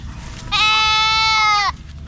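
A goat gives a single drawn-out bleat lasting about a second, loud and close, clearly tonal with a wavering pitch, against a quiet outdoor background.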